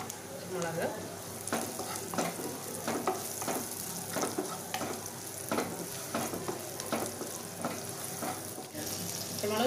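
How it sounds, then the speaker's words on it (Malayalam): Green chilies dropped into ginger and garlic frying in oil for a spicy prawn roast, giving a steady close sizzle with repeated scraping stir strokes throughout. "ഇഞ്ചിയും വെളുത്തുള്ളിയും ചെറുതായിട്ട് എണ്ണയിൽ മൂത്തതുമ്പോൾ അതിലേക്ക് പച്ചമുളക് ഇടുക"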